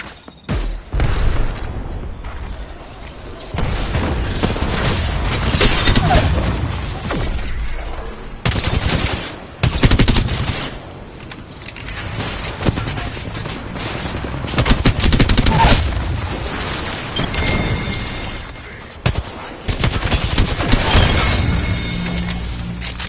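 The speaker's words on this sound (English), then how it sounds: "Grenade!" A video game firefight: a grenade explodes with a heavy boom amid repeated loud bursts of automatic gunfire. Sharp blasts and rattling volleys come in waves with brief lulls between them.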